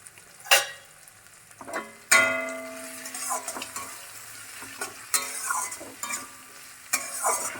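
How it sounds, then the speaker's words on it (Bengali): Ginger paste stirred and fried in hot oil in a pan while cooking a cabbage dish, with a steady sizzle broken by several sharp clanks of a spatula against the pan. "আদা বাটা দিয়ে দেবো দিয়ে আর একটু নাড়াচাড়া করব কয়েক সেকেন্ড"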